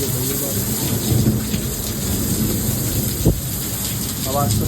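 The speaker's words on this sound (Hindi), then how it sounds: "भाई बहुत ज़्यादा तेज बारिश हो रही है।" Heavy rain during a thunderstorm hisses in a constant loud wash, with low thunder rumbling beneath and one sharp thud partway through, close and steady from start to end.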